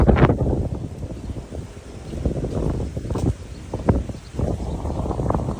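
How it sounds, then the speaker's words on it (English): Steady gusting wind buffets the microphone at a Mediterranean resort in Paralia, Katerini, Greece, a low rumbling roar with shifting intensity and faint rustling throughout. "Very windy today."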